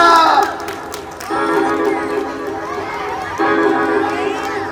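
A crowd at a Ramleela performance applauds and cheers, a dense, loud wash of clapping and shouting in steady bursts that surge up twice, with voices mixed into the noise.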